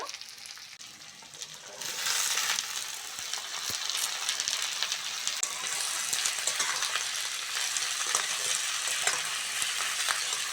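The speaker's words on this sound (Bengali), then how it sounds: "এবার বাঁধাকপি আর আলুটা ভালো করে পেঁয়াজের সঙ্গে ভাজবে" Chopped cabbage and potatoes hit a pan of frying onions, and a quiet start jumps into a loud, steady crackling sizzle that continues with occasional stirring clicks and no voices.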